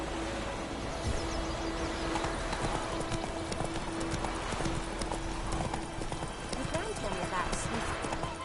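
Geralt's horse Roach trots in The Witcher 3, hooves clip-clopping in a steady rhythm under the game's ambient music, with a brief neigh and character voices speaking over it.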